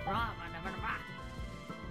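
A cartoon duck quacks in the video game Duck Life 9, two bright quacks close together near the start, mixed with the game's background sounds and with speech in the clip.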